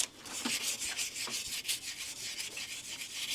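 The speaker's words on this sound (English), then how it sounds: "I just take a little 400 grit and go over where I ran the Dremel." Fine 400 grit sandpaper is rubbed back and forth over a Dremel-cut edge on a Kawasaki F7 Bushwacker top-end part, giving a faint, steady scratchy swish in repeated short strokes.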